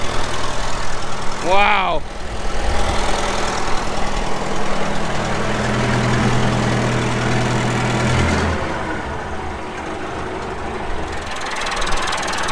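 A backhoe engine idles in a steady, rumbling drone that never rises in pitch, its throttle linkage having come loose, with a voice exclaiming briefly early on over the close, continuous engine noise.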